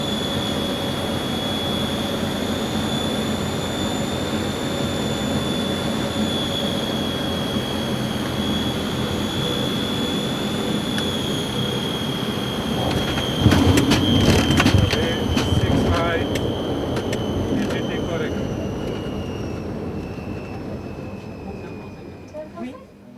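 Light aircraft on approach to runway 06 in a left-hand circuit, heard from inside as a steady engine drone with a high whine and a short burst of rattling noise partway through.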